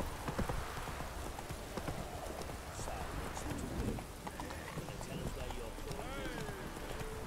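Horse hooves clip-clopping in The Witcher 3 as the horse moves along, a steady patter of hoofbeats under ambient game sound and voices.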